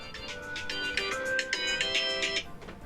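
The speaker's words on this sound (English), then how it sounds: "You just got a phone call, by the way." An incoming call sets off a mobile phone ringtone, a bright repeating electronic melody of chiming tones, fairly loud and close, playing on its own with no talking over it.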